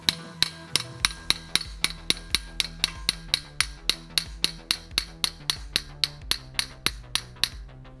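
Steel hammer blows drive a ball joint out of the lower control arm on a 1999 Toyota Solara V6, about twenty-five sharp, evenly spaced metallic knocks ringing close and loud in a steady rhythm.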